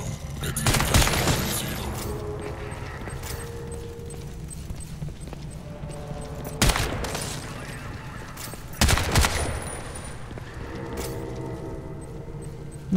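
Bursts of rapid gunfire from the video game Crysis 2 crack out in a few clusters, loud and sharp, over a steady background din.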